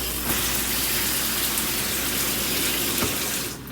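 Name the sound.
shower faucet running hot and cold water in a travel trailer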